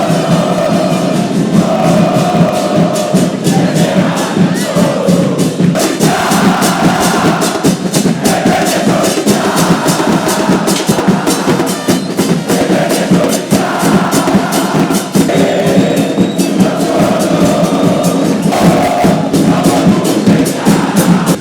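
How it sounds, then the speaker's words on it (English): A huge football crowd at an Atlético Nacional game protest chants and cheers without pause, a loud, dense roar of voices with rhythmic sung chanting carrying on throughout. "we're not really used to like this type of crowd that just non-stop cheering for an entire event"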